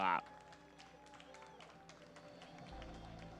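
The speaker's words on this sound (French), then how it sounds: "Une nouvelle salve d'applaudissements pour le vainqueur, Rachim Albidayer." Scattered clapping from an audience greets the winning horse at the Pompadour AHF French Championship, class 14, heard as a thin patter of hand claps running under a male announcer's amplified voice.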